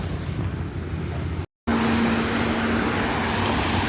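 River water rushing forcefully past, a loud, dense, steady roar with wind noise on the microphone, cut by a brief dropout before resuming at full strength.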